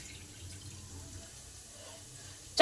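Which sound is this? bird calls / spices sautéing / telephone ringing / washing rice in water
washing rice in water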